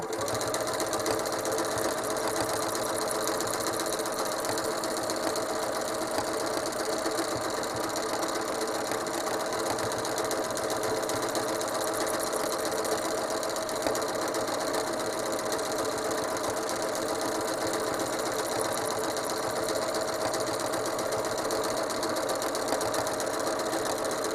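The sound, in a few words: sewing machine quilting a spiral stencil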